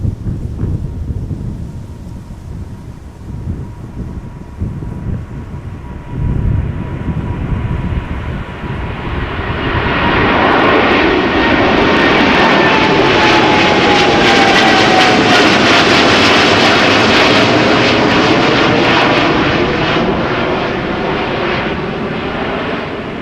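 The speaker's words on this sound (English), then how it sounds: "It is a Boeing 7878 Dreamliner going to Dallas-Fort Worth, Texas." A two-year-old Boeing 787-8 Dreamliner bound for Dallas-Fort Worth passes at windy Amsterdam Schiphol Airport, its jet roar swelling from a distant rumble into a loud, broad, sustained thunder that holds for several seconds before easing slightly.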